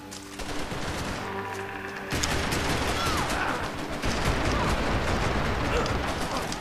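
Rapid gunfire in Max Payne 3 multiplayer on Xbox Live, bursts of automatic shots crackling densely for several seconds with a brief pause, loud and close, with no speech over it.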